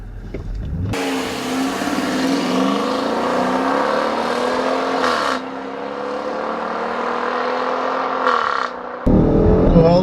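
A 2014 Dodge Durango R/T or Range Rover Sport accelerates hard toward redline in a drag race. The loud, close engine note climbs steadily, dips briefly at a gear change, climbs again, and then cuts off.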